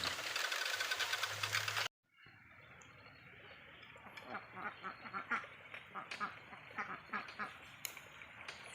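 Barbary (Muscovy) ducks about three to four months old, kept on a small farm, give a run of soft, uneven quacks and calls at close range over steady outdoor background noise, after a brief loud burst of noise at the start.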